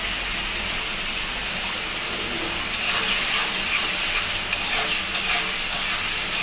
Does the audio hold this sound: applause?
no